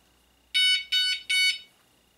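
A motion-activated auto dialer alarm gives three loud, evenly spaced electronic beeps as it is armed, each a sharp high tone lasting about a quarter second, alone with no talking.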